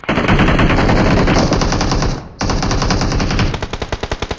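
Automatic gunfire in the battle royale game BGMI, loud and close, with rapid sustained bursts, a brief pause, then more rapid fire ending in distinct separated shots.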